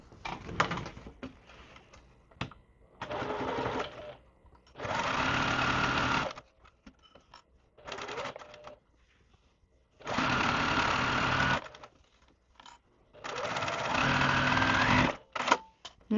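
A sewing machine runs in several bursts, stitching three fabric pieces for an hourglass quilt block, each whirring run lasting one to two seconds with short pauses and faint handling noises between them; no talking.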